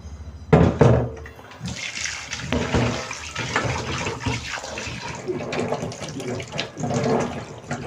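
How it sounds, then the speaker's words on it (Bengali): Running tap water splashes steadily over a fish being washed at a kitchen sink while a Bengali eggplant and vola fish curry is cooked, with a sudden rush near the start and continuous flowing and clattering throughout. "আমি ততক্ষণ মাছটা ধুয়ে নিই"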